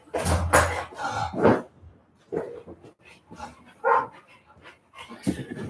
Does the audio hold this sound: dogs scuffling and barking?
yes